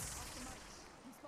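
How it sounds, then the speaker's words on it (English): Gunfire in a survival building game, a near, quiet burst of shots that rattles continuously throughout. "I'm definitely getting shot at"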